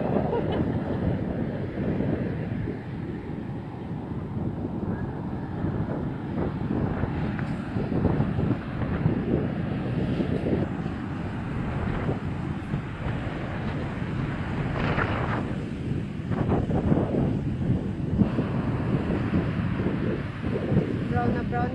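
Big waves during a typhoon on the coast at Belison, Antique, crashing in a constant heavy roar with strong wind buffeting the microphone, while people talk close by.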